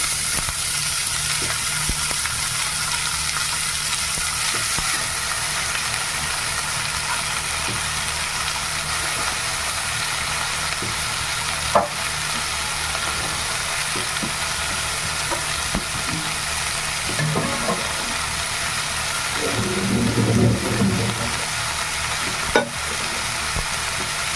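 Red amaranth greens frying in a pan, a steady close sizzle with a few scattered utensil taps and a brief louder rustle of stirring near the end, no voices.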